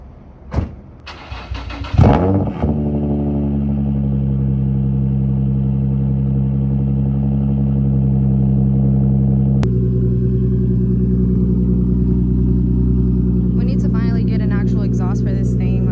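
A car engine cold starts, cranking and catching after a few clicks, then settles into a loud, steady idle with a deep drone; a voice briefly speaks near the end.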